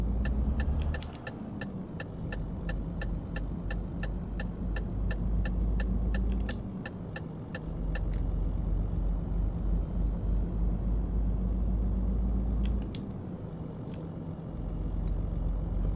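A heavy truck passing in Euro Truck Simulator 2, a low engine rumble that swells and fades, with a regular clicking tick and a hiss of air brakes, no speech.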